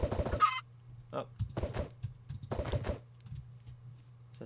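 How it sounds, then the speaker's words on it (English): A chicken in the Minecraft video game, heard as a few short honking clucks spaced through the clip over a steady low game hum, with someone talking between the calls. "Is that just a regular chicken?"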